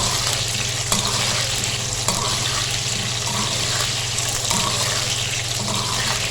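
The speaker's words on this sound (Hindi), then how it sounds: "ये देखें जी, आलूओं को फ्राई कर लिया मैंने और साथ ही हाफ डन भी हो गए।" Potatoes, salted and half cooked, frying in hot oil for a potato and egg gravy, with a steady, dense hiss and crackle that continues throughout without a break, with a faint low hum beneath.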